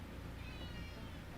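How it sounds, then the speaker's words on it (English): A pet cat named Marbles meows indoors, a fairly quiet, steady cry close by against low room noise, with no one talking over it. "Why are you meowing at me, Marbles?"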